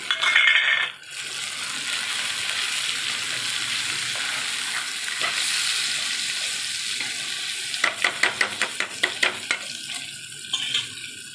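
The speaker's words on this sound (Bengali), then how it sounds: "এটা ঢেকে ঢেকে আমি একটু নরম করে ভেজে নেব।" Soya chunks with coriander, cumin, salt, turmeric and chilli powder fry in a pan with a loud, steady sizzle, a brief clatter at the start and a burst of quick metallic taps near the end.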